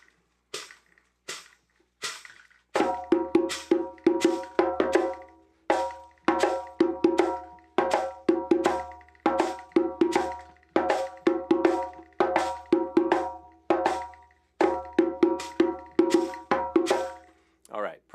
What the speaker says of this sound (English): It sounds like this. I'll play it with the shake hat and the break.